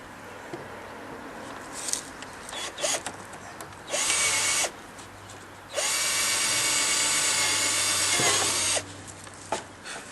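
A power drill drives 1-inch galvanized sheetrock screws into porch lattice panels, with several short bursts followed by two long sustained runs, loud and close, and no talking.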